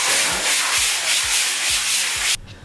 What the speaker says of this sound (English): we need to give this a sand down just to get rid of all of any of the release agent